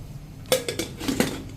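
A few metallic clanks and knocks of a pressure cooker lid being fitted and closed over sambar, close up and fairly quiet, with no talking.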